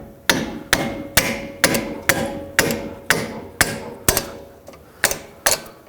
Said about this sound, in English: with a hammer or a rubber mallet, you can break these free, just like this.